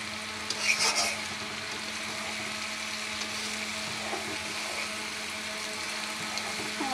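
Chunks of taro (kochumukhi) stir-fried in oil, a continuous low sizzle with a brief clatter of the spatula near the start, then steady close frying and occasional faint stirring scrapes.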